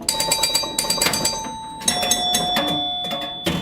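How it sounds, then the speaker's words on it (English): Bright electronic chimes from the Stars pinball video game ring in quick repeated bursts with sustained bell-like tones, including the 500-point chime, steady and close over a faint background. "That was the 500-point chime."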